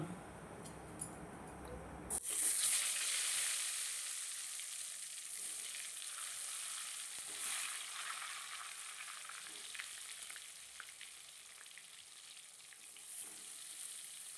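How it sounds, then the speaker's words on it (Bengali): Pointed gourd (potol) dropped into hot oil with a pinch of turmeric, bursting into a loud hiss that settles into a steady, close frying sizzle with soft crackles. "তেল গরম হলে আমি পটলগুলো ভালো করে ভেজে নেব"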